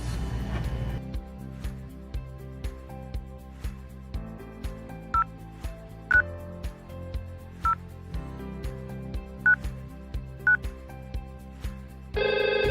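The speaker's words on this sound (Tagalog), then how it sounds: "Let's try to ring the analog phone number 4 by dialing the analog phone's line number here to IP phone 6." A line number is keyed on an IP phone in a home VoIP setup, a run of short tone beeps spaced about a second apart over a steady background hum, followed by the start of a ringing tone at the end.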